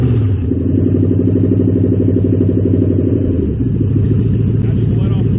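A Toyota car engine runs loud and close, idling with dense harmonic rumble, then the tone shifts partway through as the car is put in reverse and rolls slowly at a drag strip; a voice is heard alongside.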